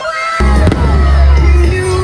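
Sharp bangs of fireworks burst at a Christmas light opening over a loud, dense crowd noise, with cheering and shouting continuing throughout.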